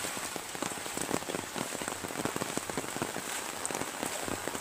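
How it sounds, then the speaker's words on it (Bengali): Heavy rain pours down beside the River Thames, a dense, steady hiss of drops on wet ground and pavement with frequent sharp splatters, close and continuous throughout without any voices. "এই দেখো আবার ঝাঁপিয়ে বৃষ্টি নামছে"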